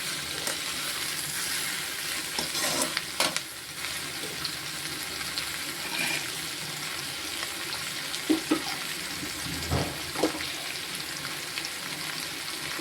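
Vegetables for chapathi noodles stir-fry in a hot pan, giving a steady sizzle with intermittent scraping and stirring knocks, close and continuous throughout with no talking.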